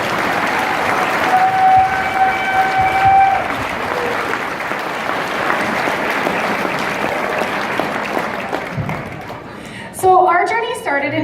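Sustained applause from a large crowd fills a banquet room at a Telemiracle steak night fundraiser in Lloydminster, holding steady for about ten seconds before a voice cuts in near the end.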